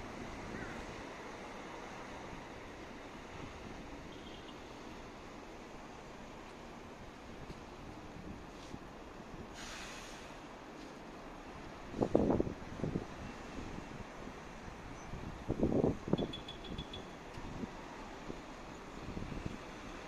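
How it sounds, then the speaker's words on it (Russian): Outdoor ambience at the railway station and station square in Vladivostok: a steady wash of broadband city and wind noise, with a few louder bursts of passing activity around the middle and latter part. "вокзал железнодорожный и привокзальная площадь."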